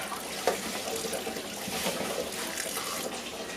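Kitchen tap water pours steadily over salted zucchini being rinsed for a canned hot dog relish, a continuous splashing flow at low water pressure, close and unbroken, without any talk.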